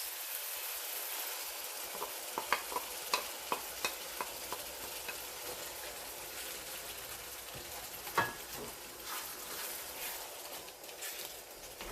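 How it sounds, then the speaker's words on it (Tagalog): Ground beef crackles and sizzles in a pan while a utensil stirs it, making a run of rhythmic scraping taps early on and one louder knock later, all over a constant frying hiss with no speech. "Maluto na ng bahagya yung ating giniling."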